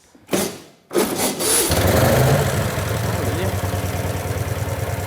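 A hot rod engine turns over with a couple of cranking bursts, catches and settles into a loud, steady rumbling idle, out of gear with a touch of throttle, close up and with no talk over it.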